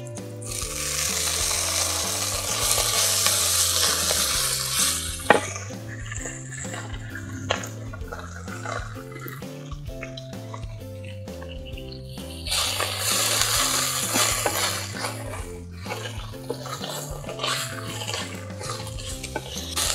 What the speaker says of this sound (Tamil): இந்த கீரையை வந்து நம்ம இந்த எண்ணெயிலே நல்லா வதக்கி விடணும்.